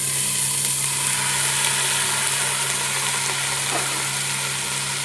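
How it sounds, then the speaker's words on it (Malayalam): Chopped banana blossom fries in a pan with coconut for thoran, giving an even, close sizzle with a low steady hum underneath. No one speaks. "ഇനി ഇതിലേക്ക് നമുക്ക് ഈ വാഴക്കൂമ്പ് ചേർത്ത് കൊടുക്കാം"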